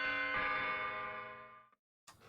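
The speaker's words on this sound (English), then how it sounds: "Ring the doorbell to start the chimes." A doorbell chime from a lock puzzle in a video game rings out as a single sustained bell tone that slowly fades, followed by a brief burst of another sound, with no talking.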